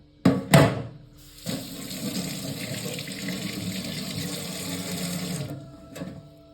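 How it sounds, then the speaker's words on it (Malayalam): Water poured into a pot of chopped jackfruit, a steady broadband splashing rush lasting about four seconds after a couple of brief knocks, close and fairly loud with no talking. "നമുക്ക് ആവശ്യത്തിന് വെള്ളവും കൂടെ ഒഴിച്ചു കൊടുക്കാം"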